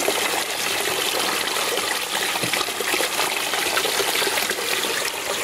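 Water rushes steadily through a gold sluice box, washing over a grate into a small mini sluice, a continuous close gushing trickle with no talk.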